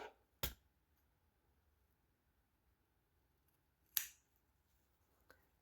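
Two sharp, isolated snips of scissors cutting through spider plant stems, close and crisp, separated by a few seconds of quiet, with a fainter click near the end.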